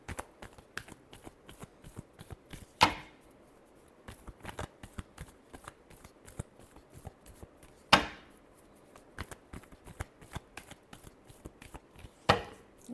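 Tarot cards being shuffled by hand, close and clear: steady rapid riffling and flicking with three sharper louder snaps as the deck is squared, no talking.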